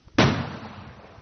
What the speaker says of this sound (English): As he looked, he heard gunfire.